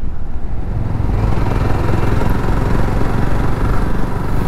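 A Jawa 334cc four-stroke motorcycle engine drones loudly and steadily while riding on a road, a close, continuous throbbing rumble with wind noise and no voices.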